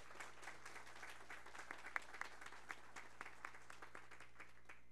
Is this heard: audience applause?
yes